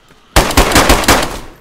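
A sudden, loud burst of rapid gunfire in DayZ, about five quick close shots in a tight rhythmic string, starting abruptly after near silence and trailing off briefly.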